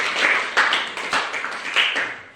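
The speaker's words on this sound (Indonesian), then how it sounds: "Oke, berikan aplaus untuk kelompok 1." A group of people clapping together for a small class group, a brief, dense patter of hand claps at close range with no talk over it.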